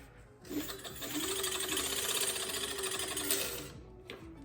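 A 48V brushless hub motor on a Razor MX350 electric scooter spins freely off the ground for about three seconds, with a steady buzzing electric whine and a faint rubbing drag from the brake caliper. It is quiet and heard alone.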